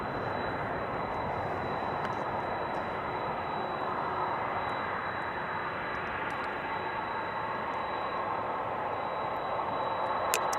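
Boeing 747 jet engines at Amsterdam Schiphol Airport, a steady, broad, loud roar that holds evenly for the whole stretch, with no voices over it.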